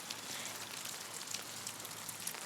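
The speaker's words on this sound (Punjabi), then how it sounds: "ਲੁਧਿਆਣੇ ਦੇ ਵਿੱਚ ਵੀ ਹੁਣ ਜਿਹੜਾ ਮੀਂਹ ਪੈਣਾ ਸ਼ੁਰੂ ਹੋ ਚੁੱਕਿਆ ਹੈ" Rain patters steadily in Ludhiana, Punjab, a continuous soft hiss with scattered crisp drop impacts on nearby surfaces and no talk.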